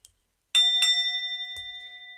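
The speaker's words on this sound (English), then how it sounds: "Where's my bell?" A handheld bell is struck twice in quick succession, leaving a clear metallic ring that hangs and slowly fades in a quiet room, followed by a faint soft knock.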